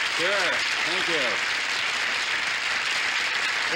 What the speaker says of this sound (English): Listen to that applause, huh?